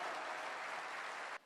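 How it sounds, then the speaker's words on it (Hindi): A crowd at a Hindi religious discourse gives a short burst of dense, steady applause that cuts off abruptly after about a second and a half. "ताली बजाओ बेटियों के माँ बाप।"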